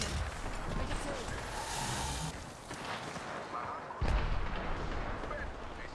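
Steady gunfire from an enemy squad in a video game, a continuous crackle of shots and explosions with a sharp louder burst near the end, with talk over it.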